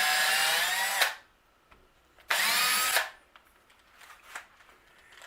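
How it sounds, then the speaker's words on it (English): Power drill boring a hole through the center of a piece of wood for a guitar string action measuring tool, two loud whining bursts of about a second each, followed by quieter rubbing and handling noises. "Try to drill a hole about the center of this piece of wood"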